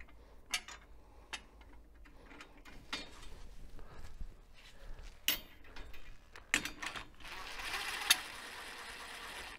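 Lug nuts being threaded onto the wheel studs of a UTV during an alignment, heard as faint scattered metallic clicks, scrapes and light clinks close by over a low background hum, with no talking.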